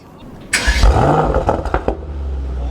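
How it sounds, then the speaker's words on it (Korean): A 2019 Mercedes-AMG GT 63 S 4-Door engine cranks and fires up with a loud burst, then settles into a deep rumbling idle with a few quick blips. "패드 시프트를 이렇게 안쪽으로 당겨서 시동을 걸어 볼게요."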